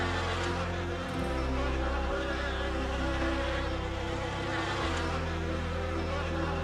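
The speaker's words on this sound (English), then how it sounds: "We shook off the swarm." A swarm of honeybees, just shaken into a hive, hums loudly and continuously, a thick close buzzing drone with a low engine-like rumble shifting in the background.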